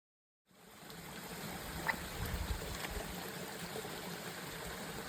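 Water of a stream on a hiking trail rushes steadily after a brief silence, a continuous close hiss and gurgle with faint splashes, no voices.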